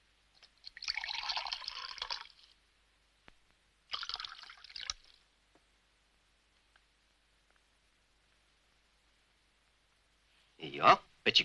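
Water poured into a glass indoors, two short splashy pours a couple of seconds apart, quiet and close, followed by a brief louder clink or voice near the end.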